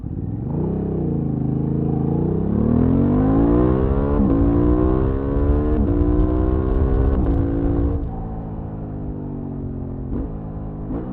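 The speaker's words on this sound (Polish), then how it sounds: "jak on brzmi i jak sobie burczy, jak się nim jedzie." A 2023 Honda Hornet motorcycle engine with a deep, throaty aftermarket exhaust burbles and revs up and down steadily, loud and close, with no talking.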